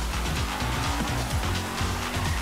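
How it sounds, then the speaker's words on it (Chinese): A car drifting in GTA5, its tires squealing in repeated bursts over a steady, loud engine roar, with the pitch of each squeal swooping through the slides. "真的很适合漂移，先漂再移。"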